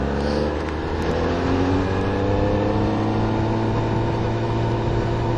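A Yamaha R6 sport motorcycle on the road gives a loud, continuous engine drone with steady rising pitch as it pulls under acceleration, heard close up alongside wind rush.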